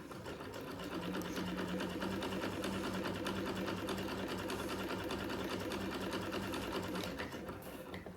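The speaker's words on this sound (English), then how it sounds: "if I let go of the hand crank, it will turn on its own" A freshly oiled hand-crank sewing machine spinning freely on its own, a steady close mechanical whir with a rapid even rhythm that holds throughout before easing slightly at the end.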